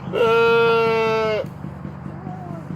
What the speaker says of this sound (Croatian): Ovo su ovce.